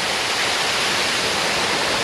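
Falling water at Shing Mun Valley roars as a dense, steady wash of noise, loud and unbroken throughout.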